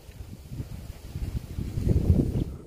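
Strong gusty wind outdoors during kite flying buffets the microphone in low rumbling surges that build louder toward the end, with no speech heard.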